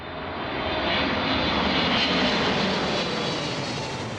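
A fixed-wing airliner passes close by at the edge of Heathrow Airport, its engine roar loud and continuous, swelling to a peak midway and then easing slightly as it moves past, with no voices over it.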